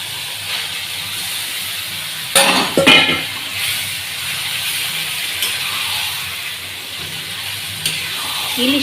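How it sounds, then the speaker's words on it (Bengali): Taro leaves drop into a hot pan with a sudden burst of hissing sizzle, followed by scraping stirs and clinks of a utensil against the pan under continuous frying noise. "এবার দিয়ে দেবো কচুর শাক"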